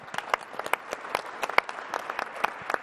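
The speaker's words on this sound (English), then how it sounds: "Let's give them a nice round of applause." Sparse, scattered clapping from an investor day audience, fairly quiet and uneven, with individual hand claps standing out rather than a full ovation.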